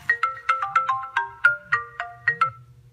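A smartphone ringtone set off by a smartwatch's find-my-phone feature plays alone, a close, clear melodic pattern of repeated bright tones in quick, steady bursts.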